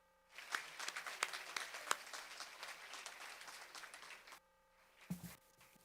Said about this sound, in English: I'd like to give a round of applause for everybody that set up this beautiful room